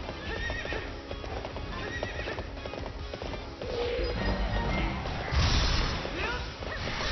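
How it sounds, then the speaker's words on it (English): Hooves clip-clop in a quick galloping rhythm while a horse neighs loudly, set against busy game sounds from Hyrule Warriors on Wii U. "Dude, I'm just like riding through on my horse."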